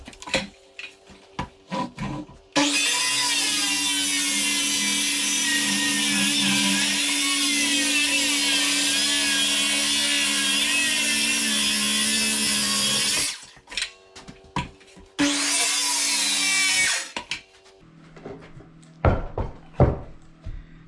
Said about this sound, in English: we'll cut this out with a skill saw